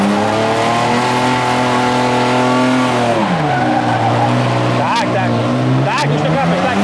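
A loud car engine revs steadily while drifting, then drops in pitch as the tires skid, with brief squeals near the end.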